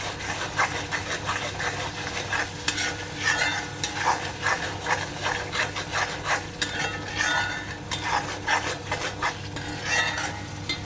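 Spice masala being stirred and fried in a pan, with a steady soft sizzle under repeated scraping and rubbing strokes of a spoon against the pan, close and moderately quiet, with no talking.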